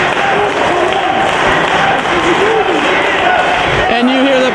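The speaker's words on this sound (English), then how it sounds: "you hear the Pittsburgh crowd getting behind this action" Pittsburgh crowd at a Ring of Honor pro wrestling match, a steady, loud wall of cheering and chanting voices that swells near the end, with thuds from the ring beneath it.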